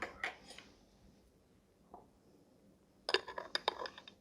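A metal spoon clinks against dishes beside a mug of hot chocolate topped with dairy-free vegan whipped cream: a couple of light taps at first, then a quick cluster of bright clinks near the end, close and fairly quiet.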